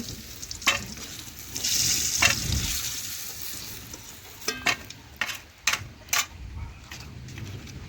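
Chopped onion sizzles in a little oil in a pan, a close, continuous crackle joined by several sharp spatula clicks and scrapes in the second half.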